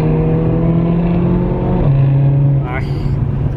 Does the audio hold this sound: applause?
no